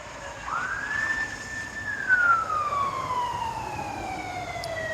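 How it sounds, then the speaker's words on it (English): An ambulance siren wails from a distance, its pitch rising then sliding slowly downward in one long sweep over steady traffic rumble. "You hear that ambulance?"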